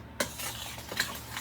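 Banana bread batter being stirred in a bowl, a short soft scrape of the spoon against the bowl with a couple of light clinks, close and quiet.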